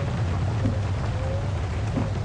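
Heavy rain in the video game Minibus Simulator Vietnam, during a drive in a County limousine minibus: a dense, steady hiss of downpour with a low rumble beneath, constant and close, no voices.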